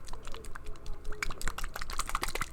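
A small bottle of acrylic craft paint is shaken before opening, giving a quick irregular run of close clicks and rattles that builds denser toward the end.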